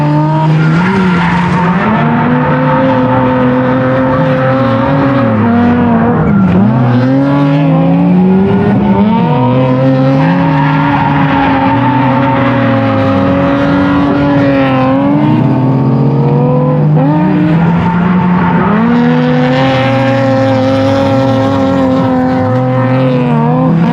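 A Mazda FC RX-7 coupe build at a track accelerates hard, its loud rotary engine howling and rising in pitch, then dropping sharply at gear shifts before climbing again, with continuous tire noise and no talk.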